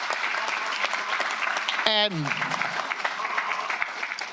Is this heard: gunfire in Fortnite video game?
no